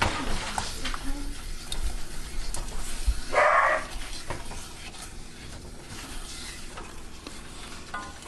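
Teriyaki sauce with sugar is stirred in a pan over medium heat, a soft scraping and low sizzle under intermittent talking, with a dog barking briefly in the background.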